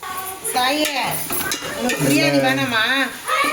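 Biryani being stirred in a pot after coriander and mint go in: a spoon scrapes and clinks against the metal pot in short strokes while someone talks over it throughout.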